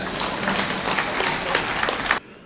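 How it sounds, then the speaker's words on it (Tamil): Audience at a Tamil comedy debate applauding, a dense burst of clapping from a crowd that cuts off abruptly near the end. "புரிஞ்சால் கைத்தட்டுங்க"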